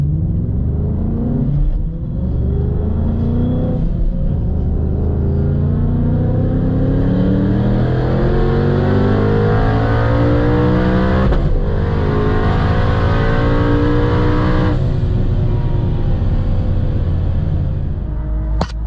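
A turbocharged stick-shift Mustang with a Whipple 3-liter setup and about 770 wheel horsepower roars hard under race acceleration, a loud sustained engine note climbing through gears with brief shift breaks, close and dominant throughout.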